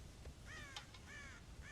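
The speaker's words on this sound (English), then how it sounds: "God damn crows!" Crows cawing in the Red Dead Redemption video game, near a farm silo where they raid the corn: three or four harsh, rasping caws in a row over a steady low ambient bed, with no talk.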